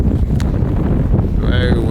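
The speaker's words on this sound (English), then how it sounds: "Very windy out here." Wind blowing outdoors across a vegetable garden, a strong, continuous buffeting roar on the microphone, with a voice speaking through it.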